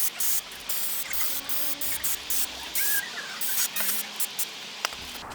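Brake cleaner sprayed from an aerosol can onto Mercedes W203 C-Class brake caliper parts in a series of sharp hissing bursts, short and repeated with brief pauses between, close and fairly loud.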